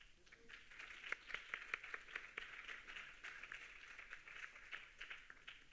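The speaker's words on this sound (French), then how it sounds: "On peut les applaudir." An audience at a conference plenary session applauds, a faint, distant patter of many hands clapping steadily for several seconds.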